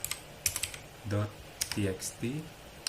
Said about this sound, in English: we can use command by typing mv bima.txt